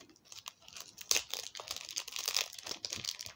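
Close crinkling and tearing of plastic packaging around a diecast Enviro 400 bus model in irregular bursts, with quick rustles and crackles as it is pulled open by hand.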